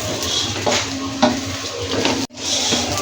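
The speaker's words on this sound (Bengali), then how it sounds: "দেখেন আমরা নেড়ে নিচ্ছি মিক্স হয়ে যাচ্ছে মশলাটা মশলাটা চাউলের সাথে মিক্স হয়ে যাচ্ছে" A utensil stirs rice with spices in a large pot, scraping and clinking under a soft sizzle, close and moderately loud, with a brief cut near the end.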